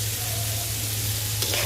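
Onions fry in a pan with a little salt for a mushroom curry, giving a steady, close sizzle with faint stirring scrapes and no break throughout.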